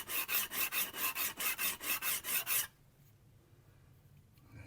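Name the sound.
chisel rubbed on sharpening stone to remove burr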